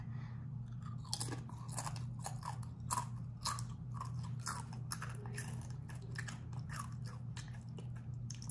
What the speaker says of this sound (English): Haunted ghost pepper chip.